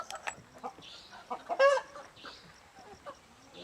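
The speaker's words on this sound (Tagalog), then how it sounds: "Siguro ipasok niya na yung mga manok niya." Several chickens cluck and squawk nearby in short irregular bursts, one louder squawk standing out midway over a quiet outdoor background.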